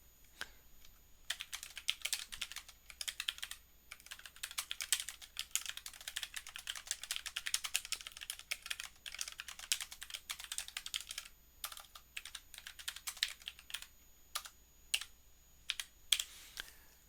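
Steady, fast clicking of keys on a computer keyboard, close and fairly quiet, in continuous runs with brief pauses.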